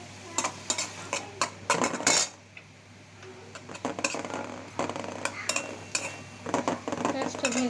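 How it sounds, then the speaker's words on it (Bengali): Onion and chillies fry in mustard oil while a metal spoon stirs and scrapes the pan: irregular clanks and knocks over a soft sizzle, with a brief quieter pause midway. "আর পেঁয়াজ মরিচটা ভালো করে ভেজে নিচ্ছি"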